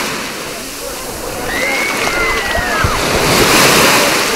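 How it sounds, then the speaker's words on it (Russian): Stormy sea surf pounds a beach at Blagoveshchenskaya, a continuous, loud rushing roar that swells louder toward the end, with a faint whistling tone drifting over the crash of the waves. "Море еще такое какое-то бушующее, непонятно."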